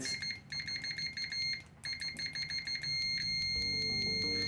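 UNI-T UT89X multimeter sounding its continuity beep through the default test leads, a high tone chopped into rapid bursts that then settles into a steady, unbroken beep.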